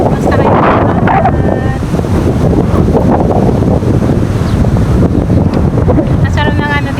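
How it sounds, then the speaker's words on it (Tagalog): A strong breeze blows across the microphone in an open park, a steady, loud rush of wind buffeting with low rumble throughout, with faint voices underneath. "Nasarap ng ano dito, ng simoy ng hangin."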